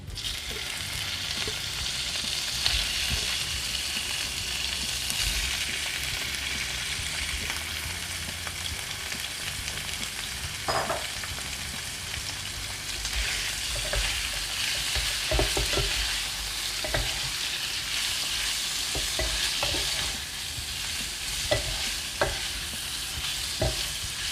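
Pork frying with browned garlic in a pan, a steady close sizzle that runs throughout and grows louder partway through as the meat goes in, with scattered clinks of a spatula stirring against the pan.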